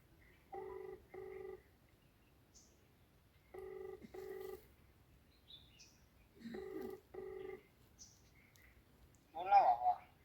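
A phone ringing tone sounds in three evenly spaced double bursts, clear and fairly close, with a brief voice at the very end.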